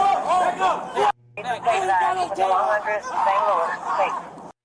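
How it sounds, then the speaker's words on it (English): A crowd gathering at a police scene, a dense babble of many overlapping voices chattering and calling out nearby, steady and continuous with a brief cut partway through. "Crowd's forming."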